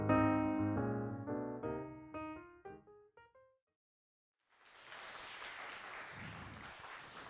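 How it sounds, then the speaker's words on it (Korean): Applause and clapping break out after a decaying musical chime sequence and a brief silence, a steady wash of many hands at moderate level with no talk. "아니 박수를 치려면 좀 똑바로 쳐봐"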